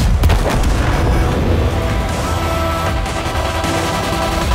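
Tank cannon shells boom in the World of Tanks video game, a loud heavy blast at the start followed by rumbling battle noise and further thuds.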